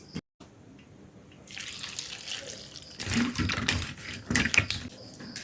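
Green chilies are washed under a running kitchen tap, with water gushing and splashing loudly into the sink in uneven bursts as hands move them under the stream.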